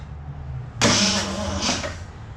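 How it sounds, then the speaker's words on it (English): A ranch truck engine cranks over and catches with a sudden loud, broadband roar. The roar surges twice over about a second and a half, then settles into a rough run. The truck's ignition timing is suspected to be set wrong. "see if it'll crank"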